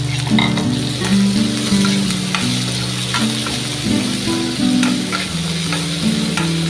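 Okra and cumin frying in hot mustard oil, a loud, steady sizzle with stirring scrapes and low rumbling clatter throughout, close up and with no talking.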